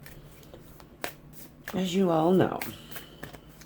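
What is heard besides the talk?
shuffling a deck of tarot cards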